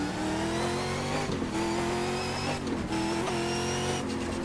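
A race car engine in the GTR2 racing game held at the rev limiter at Long Beach, giving a steady, buzzing high-revving drone with brief stuttering cuts as the limiter kicks in.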